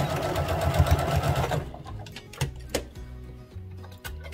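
A sewing machine back stitching a skirt seam runs in a fast steady whir for about a second and a half, then stops and gives way to close clicks and small handling taps.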